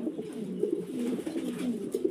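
A pigeon coos softly and repeatedly in low, rolling phrases at close range, with no talk over it.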